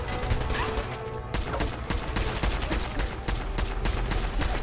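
Rapid gunfire in the video game Fallout 4: a dense, loud string of single shots fired one after another in quick succession, with crashing impacts throughout and no talk.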